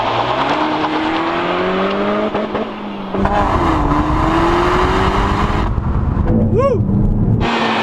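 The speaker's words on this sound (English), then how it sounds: "We're driving a Peugeot 308 GTI. It really does have that hot hatch thing down pretty well." A Peugeot Sport-built 2016 Peugeot 308 GTi hot hatch accelerates hard through the gears, its engine note climbing steadily with a brief dip at each shift, loud and close from inside the cabin, with a faint tyre chirp near the end.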